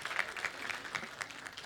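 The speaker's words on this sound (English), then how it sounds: "give Ross a round of applause" Audience applause at a business summit in Johannesburg, a moderately loud burst of steady clapping from a crowd that holds evenly and then continues beyond the end.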